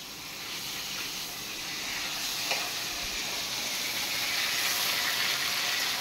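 Tangra fish sizzles steadily in hot mustard-style raw oil in a pan, a dense, close frying hiss that swells slightly louder over the seconds, with a faint clink partway through.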